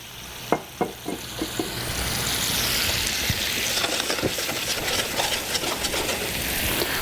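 Half a cup of liquid hits a hot pan for a salmon dish. A few sharp clinks come first, then a loud, steady sizzle and hiss that carries on close by, with small knocks scattered through it.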